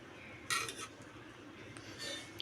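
A spoon scoops egg dum biryani onto a serving plate, giving two brief bursts of metal clinking and scraping against the dish amid near silence.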